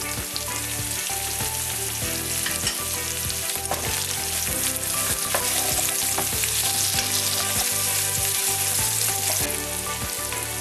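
Poha seasoning with turmeric fries in a pan, a continuous close sizzle with occasional stirring clinks, heard under steady background music.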